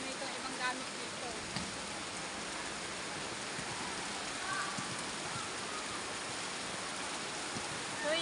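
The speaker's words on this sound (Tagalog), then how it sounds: "habang lumalakas ang ulan" Heavy afternoon rain falls steadily in a broad, even hiss that holds constant throughout, with scattered drop impacts close by and no voices.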